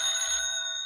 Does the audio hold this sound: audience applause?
no